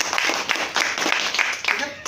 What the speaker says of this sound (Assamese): এটা জোৰদাৰ তালি হ'ব লাগে।